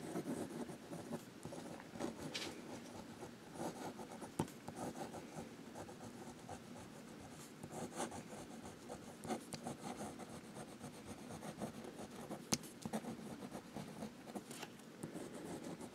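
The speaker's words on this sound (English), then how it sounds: "And we'll do some writing." Vintage Sheaffer student fountain pen with a medium nib writing letters on paper: a steady, soft scratching and rubbing that runs close throughout, with small irregular strokes and no talk.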